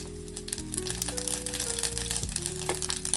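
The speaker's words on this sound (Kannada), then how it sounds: "ಇವಾಗ ಒಗ್ಗರಣೆ ಹಾಕೊಳ್ಳೋಣ. ಫಸ್ಟ್ ನಾನಿಲ್ಲಿ ಸಾಸಿವೆ ಜೀರಿಗೆ ಹಾಕೋತಾ ಇದ್ದೀನಿ." Mustard seeds and cumin crackling in hot oil for a tempering, a dense, steady spluttering and popping sizzle that runs throughout, with a tonal hum from the kitchen underneath.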